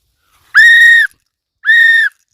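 A whistle is blown twice, two loud, shrill half-second blasts with a pause between them, close and alone against silence.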